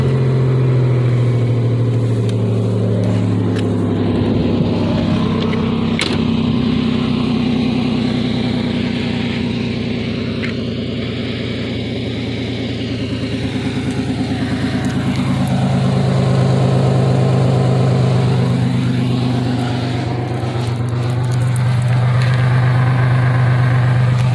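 A car with a broken exhaust that sounds almost like a straight pipe idles loudly and steadily, a deep rumbling drone with slight swells in revs throughout, close up and alone.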